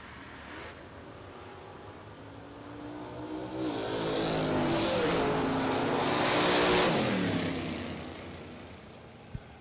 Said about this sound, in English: And the danger boy, Rob Cropfield, in the Roadster Camaro, down 620.